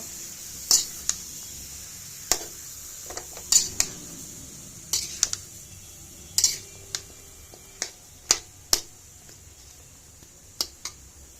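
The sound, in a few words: stirring bottle gourd and prawn curry in a pan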